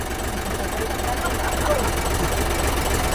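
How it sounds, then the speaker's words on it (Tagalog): An Isuzu 6UG1 truck engine idles with a steady, continuous low rumble and vibration throughout, a voice speaking over it. "Mandar na ang ating engine na 6UG1."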